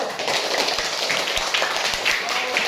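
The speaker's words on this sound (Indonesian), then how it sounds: "tepuk tangan dulu" A class of students clapping in a math lesson, a brief, scattered round of applause with uneven claps and some background voices.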